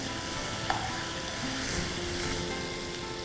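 Onions fry in a pan for chicken keema curry, giving a steady, close sizzle that holds evenly throughout, with a faint utensil clink early on and no talking.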